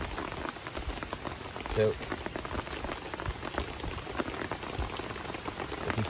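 Rain patters steadily around a Swedwoods outdoor fire stove, a dense crackling of drops on nearby surfaces, with one brief spoken word midway.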